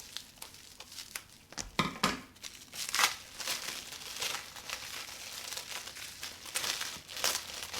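Imported hoya and anthurium plants being unwrapped from their packaging, with close, irregular crinkling and tearing of wrap and paper in short bursts and rustles, no talking.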